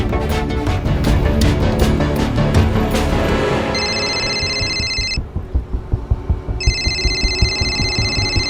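A telephone rings in a Mumbai crime drama, a loud close electronic ringtone in repeated trilling bursts with a short pause between them, over background music and a throbbing beat.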